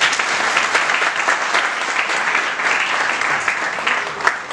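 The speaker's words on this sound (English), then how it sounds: "Let's give her a big round of applause." Sustained, loud applause from a large audience at a Kathak dance recital, steady dense clapping filling the hall throughout with no talk over it.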